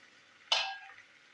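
Pumpkin chunks stirred and fried in a pan, one sharp scraping sizzle that fades within a second, quiet and close.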